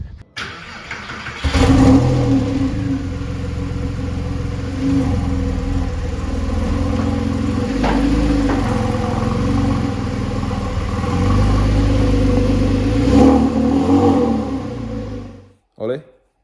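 A Porsche 996 Carrera 4S starts and runs through a sustained engine rumble with rises in revs, heard close throughout and ending abruptly, with talk partly over it.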